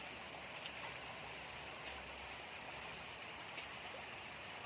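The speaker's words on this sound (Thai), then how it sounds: "แต่ว่าฝนก็ตก" Faint, steady rain falls across an outdoor garden setting, a soft continuous hiss with occasional nearer drops and no voices.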